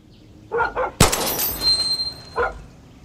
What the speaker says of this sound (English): Okay, a dog?